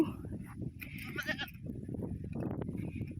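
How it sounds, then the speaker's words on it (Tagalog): Goats bleating nearby, several wavering calls in a row, with farm background noise and a faint voice underneath. "Kambing. Kambing. Kambing."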